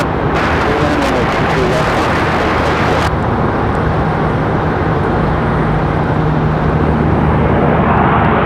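A Breeze Airways airliner roars loudly at Raleigh Durham airport, a dense, sustained jet engine blast that holds steady across the whole stretch, with talk mixed in underneath.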